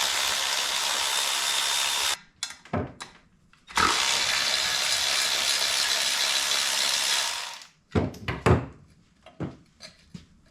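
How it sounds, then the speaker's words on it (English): Ratchet removing 8mm bolts from the side cover of a Honda CRF50, long loud stretches of rapid clicking ratcheting broken by short knocks and taps of the tool, close by with no talking. "we'll go ahead and take this side cover off."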